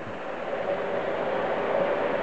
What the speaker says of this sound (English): Here comes the freight train. You can see that coming under.